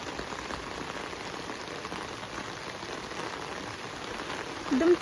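Steady rain pattering on a narrow rural footpath in the Konkan countryside, a close, even hiss of drops lasting throughout with no voices, ending in a brief louder rustle.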